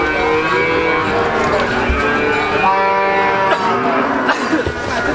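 A bull at a cattle market in Yogyakarta bellows with a long, loud, rich moo that dominates the scene, with faint market background underneath.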